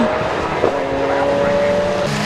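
Race cars, including a white Ferrari prepared by FF Corsa, run on a wet track at Donington in a UK GT Cup round, engines whining loudly with rising tonal pitch as they pass, under race commentary.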